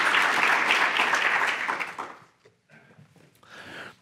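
An audience claps to welcome Dr. Michael Anthony back to the stage, a full, loud round of applause that thins and fades out, leaving a few scattered claps and faint stage sounds.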